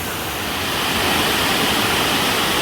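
Water streams converging in a natural outdoor spot, producing a steady, loud, full-band rush of flowing water like a small waterfall, continuous and close throughout.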